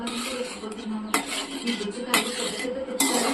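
Cooked moong dal is mashed in a metal pot, with repeated clanks and scrapes of the utensil striking the pot roughly once a second over a wet, soft churning.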